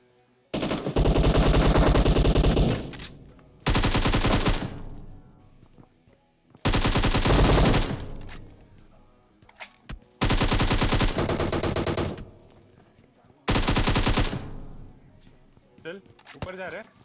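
Loud automatic gunfire from PUBG Mobile rattles out in about five long, sustained bursts separated by brief pauses, with faint quieter sounds in the gaps.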